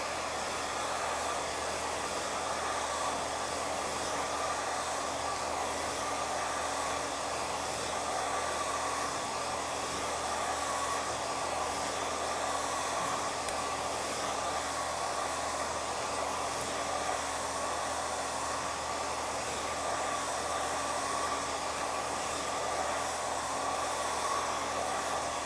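Hair dryer fitted with a concentrating nozzle blows air in a steady, unbroken whoosh that holds close and loud throughout, with no voices over it.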